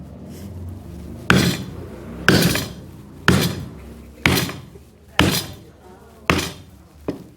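A hammer strikes a stainless steel tool driven into a coconut to open it: seven loud, sharp metallic whacks at roughly one-second intervals, each ringing briefly before decaying, close and clear with no talk.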